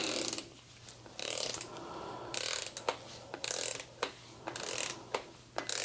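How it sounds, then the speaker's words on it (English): A torque wrench ratchets as bolts are tightened in sequence on a K20 engine during final assembly, giving repeated short clicking bursts, close and moderately loud, with no talking. "Let me get my torque wrench back down there."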